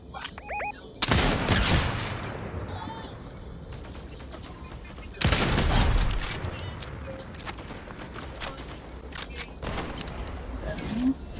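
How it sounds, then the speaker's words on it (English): Gunfire in the Fortnite video game, two loud bursts of rapid shots a few seconds apart with scattered lighter pops between, heard under players' voices talking. "somebody shooting at me"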